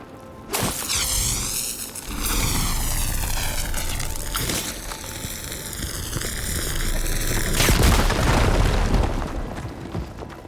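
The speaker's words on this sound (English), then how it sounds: "Should be able to blow up that fire gleam." A fire gleam is blown up in Horizon Forbidden West with a loud, close blast, followed by a long roaring whoosh that swells and rises in pitch, then a second heavy burst near the end, with no talk.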